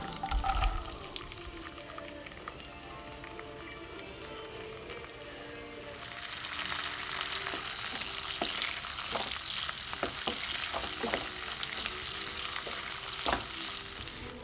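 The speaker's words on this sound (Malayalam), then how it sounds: "കുറച്ച് അണ്ടിപ്പരിപ്പും മുന്തിരിയും വറുത്തെടുക്കാനാണ്." Cashews and raisins fry in butter in a pan, a continuous close sizzle that swells partway through, with stirring scrapes and light clicks over the frying.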